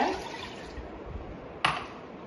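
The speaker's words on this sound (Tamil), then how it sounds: "பச்சரிசி கழுவுன தண்ணிய" Rice-washing water from raw rice is poured into a pressure cooker for sweet pongal, a steady close splashing stream with a brief sharper splash near the end.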